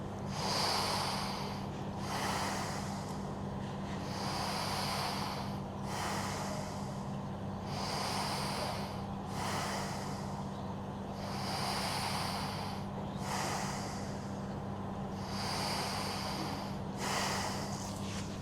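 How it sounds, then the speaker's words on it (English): Slow, deep breaths drawn in and let out fully, six complete cycles in a steady rhythm, close and fairly loud, with a constant low hum beneath and no talking, during a fascia release stretch for ankylosing spondylitis. "we're going to breathe in and out fully for 6 breaths"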